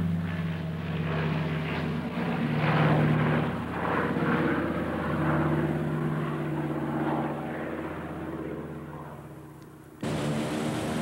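A Canadair CL-215 water bomber used for fighting forest fires in Newfoundland drones with a steady propeller engine, loud and fairly close, before an abrupt change near the end.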